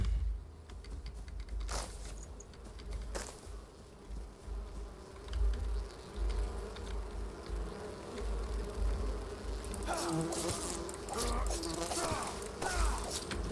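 Bees buzz in the survival game Enshrouded, a steady insect drone running through the whole stretch, with sharper clicks and game effects near the end and a voice talking over it.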